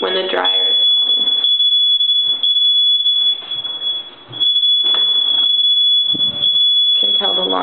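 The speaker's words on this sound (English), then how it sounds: "This is the beeping noise that we hear" A clothes dryer emits a shrill, steady high-pitched beeping tone heard indoors, continuing almost unbroken while a person talks nearby.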